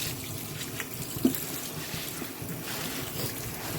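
Tap water runs steadily into a kitchen sink while fresh collard greens are rinsed under cold water, a continuous close splash with small clunks of handling.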